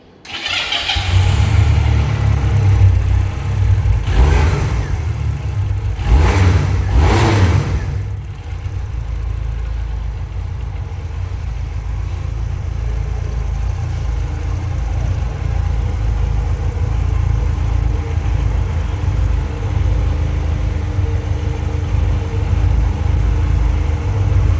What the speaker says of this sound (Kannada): ಆ್ಯಂಡ್ ಎಕ್ಸಾಸ್ಟ್ ನೋಟ್ ನಿಮಗೆ ಕೇಳಿಸ್ತೀನಿ